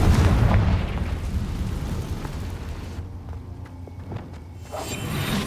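A Confringo fire spell bursts in a Harry Potter video game as a loud whooshing explosion that rolls on and slowly fades, followed by quieter clicks and crackles, with no talk.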